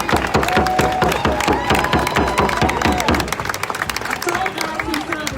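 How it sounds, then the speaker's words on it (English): A crowd at a solidarity rally for justice in Minneapolis breaks into loud, rhythmic clapping and cheering, steady beats close and sustained before gradually thinning out, with voices mixed into the applause. "Let's give them another round of applause"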